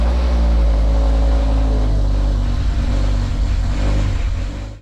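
A BMW E46 M3 with the S54 inline-six runs steadily, its deep exhaust drone loud and close and holding an even level throughout with no voices.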